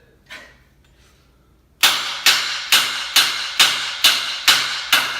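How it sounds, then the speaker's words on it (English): A hammer strikes misaligned metal bolts in a steady series of eight sharp, loud clanks about half a second apart, after a brief quiet lead-in. "Hit it with the hammers."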